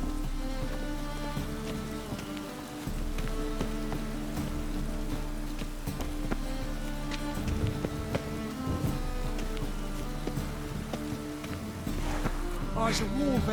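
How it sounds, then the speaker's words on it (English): Steady rain falls in The Witcher 3, a constant soft patter laid under game music and occasional character voices, with clopping footsteps passing now and then. "I like rain. Keeps the rogues indoors."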